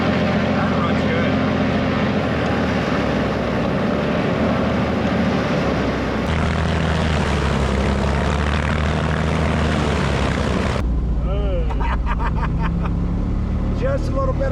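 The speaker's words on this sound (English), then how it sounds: "So we got both engines fired up, but to keep them running, we had to keep both of the fuel pumps on the low setting." Two aircraft piston engines that had sat abandoned for 20 years run together on low fuel-pump settings, a loud steady propeller drone throughout that drops abruptly in level near the end, with voices talking over it.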